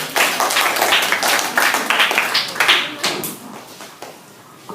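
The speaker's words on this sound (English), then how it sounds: "Let's give them a big round of applause." Students in a classroom clap for a debate moderator, a close, dense patter of hands with uneven bursts that thins toward the end.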